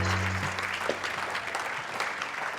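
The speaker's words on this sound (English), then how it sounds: "Clap everyone" Audience clapping on an NBA talk show after a contestant scores points, a burst of many hands clapping that continues steadily while a faint tone hums beneath at the start.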